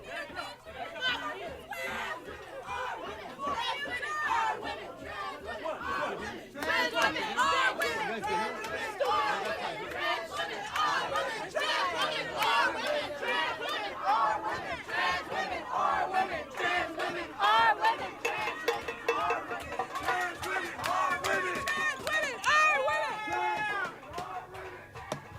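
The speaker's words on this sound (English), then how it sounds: "cheering that they got her off of campus" A dense protest crowd on a San Francisco campus shouts, chants and cheers loudly and continuously, many voices overlapping in rhythmic bursts of yelling.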